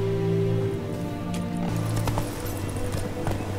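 Horse hooves clip-clopping in The Witcher 3 video game as the horse moves through trees, a steady rhythmic plodding under continuous background music.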